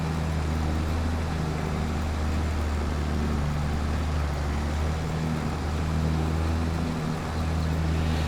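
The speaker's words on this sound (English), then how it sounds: "I wanted to have our most powerful tractor on this potato planter." A powerful 200 HP tractor pulling a potato planter in Farming Simulator 22 gives off a steady, loud, low engine drone that runs unbroken throughout, with no voices over it.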